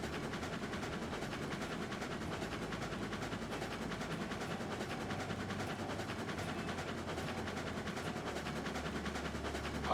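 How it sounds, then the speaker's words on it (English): Steam locomotive in the Railroads Online game rolling onto a downgrade and gathering speed, a steady dense rumble with rapid rhythmic chuffing and clatter throughout, fairly quiet and continuous with no voices. "You can hear the train pick up speed just slightly."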